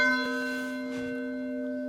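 A church bell rings outdoors in Stari Grad on Hvar island, one strong struck tone with a long sustained ringing hum that slowly decays, loud and close, with no voices.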